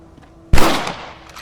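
A single close, loud rifle shot from the Red Dead Redemption video game, a sharp crack with a booming tail that decays over about a second after a quiet lead-in.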